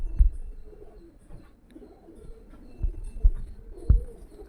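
Girebaaz pigeons give a few soft, low coos and rustles at close range, spaced irregularly across a quiet background with no talking.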